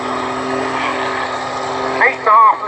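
An aerobatic plane with an 8.5-litre six-cylinder Lycoming engine and a bespoke aerobatic propeller drones steadily at an airshow, a constant humming engine tone with a brief rise near the end.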